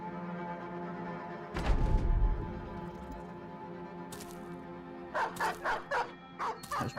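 Dogs in the Battle Brothers video game bark and yip, first a rough burst, then a run of short repeated barks near the end over steady game background sound.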